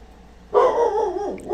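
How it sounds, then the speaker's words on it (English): A dog indoors gives one sharp, close bark that trails into a whining yelp, reacting to another dog barking outside. "My other dog is outside barking at something, so my dog inside is barking at my other dog outside."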